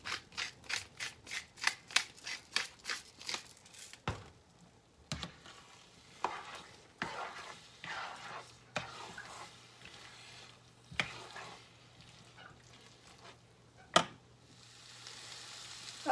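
Eggs cooking in a pan, seasoned with salt and pepper, for breakfast egg bowls: a run of quick rhythmic scraping strokes, then a soft, steady sizzle broken by a few sharp clacks of a utensil.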